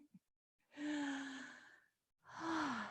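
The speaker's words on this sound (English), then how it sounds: "Take a few breaths there." Two slow, deep breaths in a quiet room during a vinyasa yoga flow, each a long audible exhale or sigh lasting about a second, close and soft, separated by silence.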